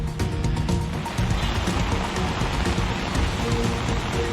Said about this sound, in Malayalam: തിരുവനന്തപുരം നഗരത്തിൽ കനത്ത മഴയാണ്.